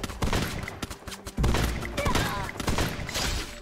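Gunfire in the video game Free Fire crackles in rapid bursts and single shots with thuddy impacts, loud and busy, while a player talks over the shooting.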